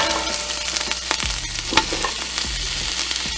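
Carrots hit a hot pot for a turkey broth, setting off a crisp sizzle with a few clattering stirs and scrapes, close and steady with no talking.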